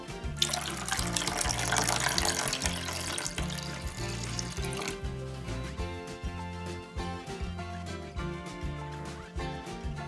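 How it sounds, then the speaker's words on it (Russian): Water is poured into a bowl of dumpling dough mixture with egg and salt in a home kitchen. A rushing trickle runs strongly for a few seconds, then tapers off, leaving a quieter background. "Добавляем воду."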